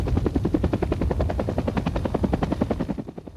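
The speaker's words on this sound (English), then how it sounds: "Helicopter gunships join Desert Storm in vast numbers" Military helicopter gunships during the 1991 Desert Storm ground campaign, rapid rhythmic rotor blade thumping close and loud, steady throughout before fading at the end.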